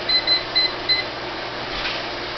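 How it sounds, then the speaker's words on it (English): Kitchen timer being set for 10 minutes during water bath canning, four short high electronic beeps in quick succession, close and clear over a low background hum. "Set our timer for 10 minutes."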